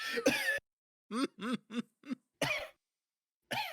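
A voice imitates a dry, raspy cough in a quick series of short hacking bursts, followed by a couple of breathy coughing sounds.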